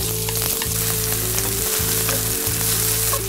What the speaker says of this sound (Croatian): Kad se ulje zagrijelo, dodajte luk.